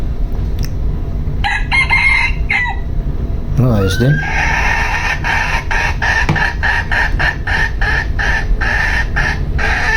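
A rooster crows once, loud and close, amid scattered clucking, with a person speaking briefly around it.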